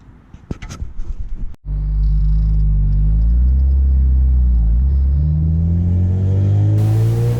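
Honda CR-V on newly installed coilovers: after a brief scuffle, a loud steady engine and road drone with low rumble holds for several seconds, engine pitch rising gradually.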